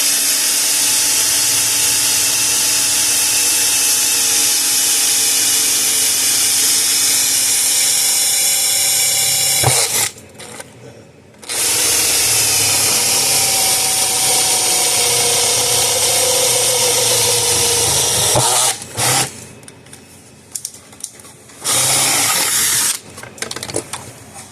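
A rotary tool grinds and chips away plastic at the corner edge of a Gallagher M800 electric fence energizer housing under repair, a loud steady whine broken by two brief pauses.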